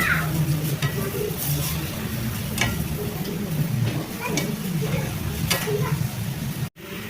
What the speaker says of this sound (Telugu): కలర్ వచ్చే వరకు డీప్ ఫ్రై చేసుకోవడమే